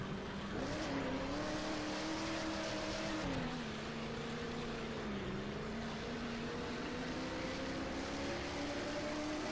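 Roblox racing car engine droning steadily at high revs, a loud close whine that dips briefly as it shifts or slows and then climbs again, with no talk over it.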